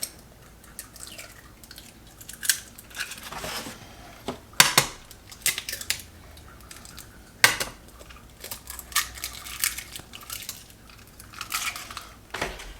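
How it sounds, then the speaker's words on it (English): Eggs cracked into baking dishes for raspberry baked oatmeal, heard as scattered light taps, shell clicks and clinks against the dishes amid quiet kitchen handling noise. "To get started, we're gonna add 3 eggs to each baking dish."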